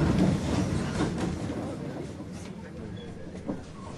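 A train crosses North Korea with a steady low rumble and rolling wheel noise, moderately loud and continuous, with faint murmurs of voices underneath.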